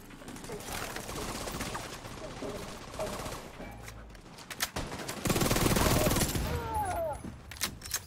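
Turret gunfire in a shooting video game: rapid bursts of shots, loud and close, come in clusters with a heavier volley near the end, amid other busy game noise.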